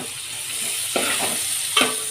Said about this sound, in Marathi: कांदा आपण कलर चेंज होईपर्यंत परतून घ्यायचा आहे।